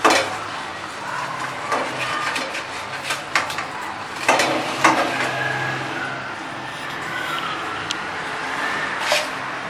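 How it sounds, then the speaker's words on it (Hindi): Chicken samosas deep-fry in hot oil with a continuous broadband sizzle. Occasional clinks of utensils and pans break through, and no one speaks. "ये जो हमने समोसे फ्राई करना शुरू किए थे ये तैयार हो गए"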